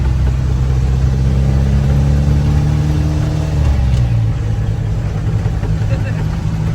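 A 1975 Ford Transit MK1 diesel van drones loudly from inside the cab, its engine note rising as it accelerates and then dropping as it shifts gear near the middle; people talk over the steady engine noise.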